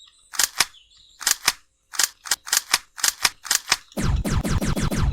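Gunshot effects in a Unity first-person shooter game fire as sharp, close cracks, first in pairs and short bursts with gaps, then a rapid string of shots at the end.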